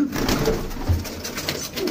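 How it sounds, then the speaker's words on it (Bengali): Many pigeons cooing inside a loft, overlapping low throaty coos close by over a busy background of rustling and chirps, continuous throughout. "এখানে অনেকগুলো পায়রা খুলে রাখা আছে"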